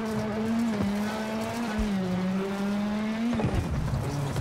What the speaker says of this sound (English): I must say, the cars do sound amazing.